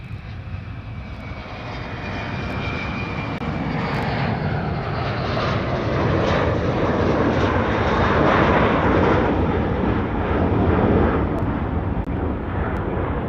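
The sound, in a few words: Boeing 777 jet landing at Honolulu airport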